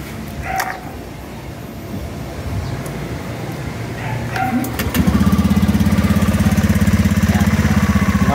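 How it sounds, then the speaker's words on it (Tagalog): Honda Beat FI V2 scooter engine starting up after a fan spinner install, settling into a loud, steady, rapid idle putter, with a dog barking and small clanks heard earlier. "So ngayon i-start natin yung motor natin."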